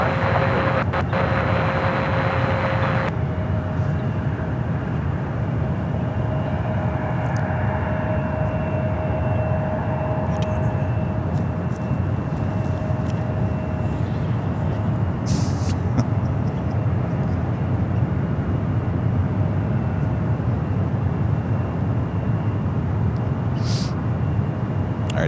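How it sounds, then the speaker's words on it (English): An Air France Boeing 777-300ER taxiing at San Francisco International Airport gives a steady, continuous jet engine roar and whine that holds at a constant level throughout, with a faint high tone threading through the airport background. "Air France starting its taxi."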